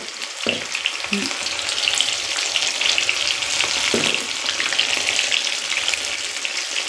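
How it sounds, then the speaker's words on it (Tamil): Mushroom kababs frying in oil: a dense, steady crackling sizzle throughout, with a couple of low knocks of a utensil against the pan, close and without speech. "இந்த சலசலப்பு சவுண்டு நின்னதும் நம்ம எடுத்துடலாங்க"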